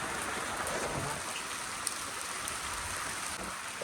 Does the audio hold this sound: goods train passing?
no